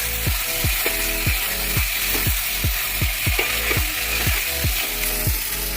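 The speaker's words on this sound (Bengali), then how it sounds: "এই পর্যায়ে আমি এই ভেজে রাখা আলুগুলো দিয়ে দেবো," Fried potatoes sizzle loudly in oily spice masala for Kashmiri aloo dum, with repeated rhythmic scrapes of a spoon stirring the pan, close up and with no talk.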